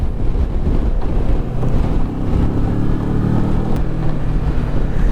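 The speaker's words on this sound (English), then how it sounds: "Still a bit windy, but it's not as bad as it has been." Steady, loud wind buffeting the microphone on a road in Scotland over a low engine drone, continuous throughout with no talking.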